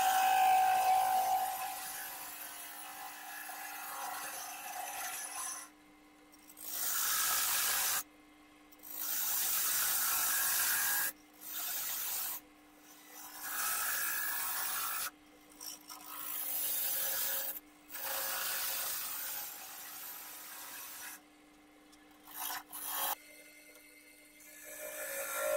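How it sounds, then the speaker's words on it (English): Repeated bursts of harsh scraping as a ball gouge cuts spinning oak or beech on a lathe, each pass lasting a second or two, separated by brief quiet gaps with a motor hum. "start defining the shape with a ball gouge"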